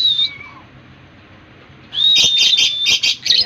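Pet hens call with a thin high whistle at first. After a short quiet gap, a close cluster of sharp, shrill peeps follows.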